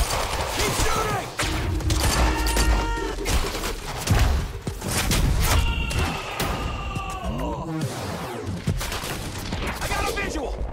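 Gunfire in the video game Quantum Break comes as rapid bursts of shots and mechanical clatter amid thuds and effects, loud and dense, with shouted voices in between.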